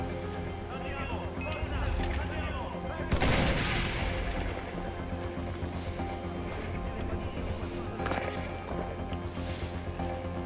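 A sharp burst of gunfire cracks out amid dense game music and background effects in Far Cry 4, followed later by another fainter shot.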